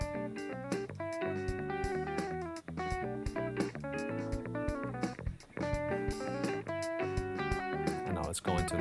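Dry band recording of guitar amps, a bass amp and drums, a dense continuous rock passage with distorted guitar chords, steady bass and drum hits, close and uncoloured by room sound.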